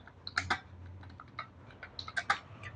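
Someone types on a computer keyboard while entering text in WordPad, producing quiet, close, irregular clusters of key clicks with brief pauses between bursts, over a faint low hum.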